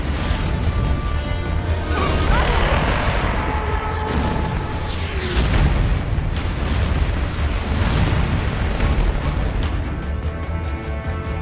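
Loud, continuous rumbling explosions and booming artillery-like blasts from a naval ship battle in the video game Metal Gear Solid 4: Guns of the Patriots, with dense layered bursts and no let-up.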